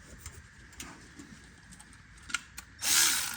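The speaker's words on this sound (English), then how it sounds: "get my ratchet ready" A ratchet wrench turning while a ride height sensor is replaced on a GM SUV, heard as a few faint ticks followed by a short, loud burst of rapid close clicking at the end.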